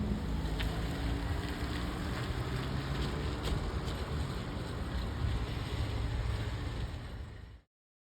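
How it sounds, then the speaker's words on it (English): Tour boat on the water at Gates of the Mountains, a constant broad rumble of engine, wind and waves lasting several seconds before cutting off abruptly, with heavy wind buffeting the microphone and no talking. "And that's the boat we're taking."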